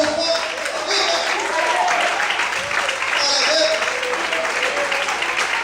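Sustained applause from a church congregation, a steady wash of clapping that carries on for several seconds with a voice faintly mixed in.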